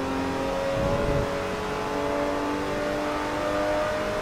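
A car engine revs steadily in Forza Motorsport 3 during a Mercedes-Benz owner's club race, a close, continuous droning whine with a brief throaty surge near the start and no talking.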